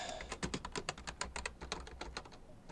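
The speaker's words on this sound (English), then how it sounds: "was typing all the wrong keys" Rapid, uneven clicking of keys on a computer keyboard, close up and continuous, with no talk.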